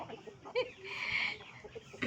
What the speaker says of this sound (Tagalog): Nag-aaway na yung mga chicken.